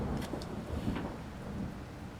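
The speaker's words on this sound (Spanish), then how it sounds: "pero llegó la tormenta y aquí estamos" A thunderstorm rolls on with steady heavy rain hissing across surfaces and low rumbles of thunder beneath it, a dense continuous wash with no voices.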